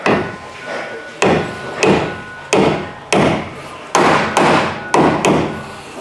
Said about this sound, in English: I need to very gently tap this down. Dead blow hammer.